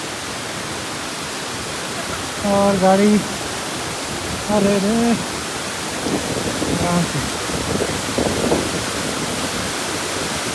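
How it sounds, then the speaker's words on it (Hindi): A fierce mountain torrent rushes down a Himalayan valley in Himachal beside a rough road, a loud, steady broadband roar of water filling the whole clip while people talk and exclaim briefly over it. "बड़ा भयंकर नाला भाई, इधर से नीचे जा रहा है ये सारा पानी।"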